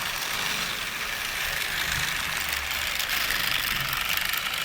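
Bachmann Durango & Silverton ready-to-run model train running on powered track, a steady low motor rumble and whirring hum with faint rattling, continuous and close throughout.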